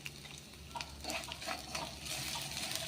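A gram flour mixture with turmeric is stirred continuously in a hot pan, giving a soft, steady sizzle and scraping at low volume that swells slightly toward the end.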